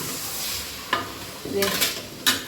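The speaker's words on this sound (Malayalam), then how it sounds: "ഇനി നമ്മൾ ചിക്കൻ ഇളക്കുക" Chicken cooking in a large pan for a chicken stew is stirred, a soft frying hiss underneath broken by a few short clinks and scrapes of the spoon against the pan.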